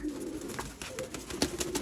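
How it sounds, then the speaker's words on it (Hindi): Sialkoti pigeons coo softly in low, repeated calls, with faint chirps and rustling around them and no talking. "ये देखें जी दोस्तों सियालकोटी कबूतर"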